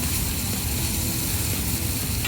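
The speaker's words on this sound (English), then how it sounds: "Now, over here, keep cooking my onions." Onions cook in a pan, giving a loud, dense, continuous sizzle close up that stays steady throughout, with no voice.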